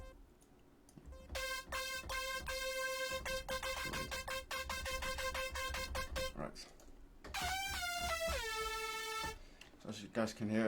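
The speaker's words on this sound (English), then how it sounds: "I've got one standard lead I always use for my Euphoric tracks" A bright euphoric hardstyle synth lead plays a simple melody, first in choppy repeated stabs and then in held sliding notes, loud and close; a voice speaks briefly near the end.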